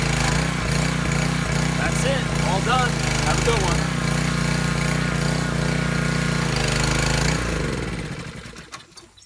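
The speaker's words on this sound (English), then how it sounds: "looks like we got a working power washer" A homemade power washer built from a garbage can runs with a steady, loud motor drone, with a voice talking over it before the machine winds down and fades out near the end.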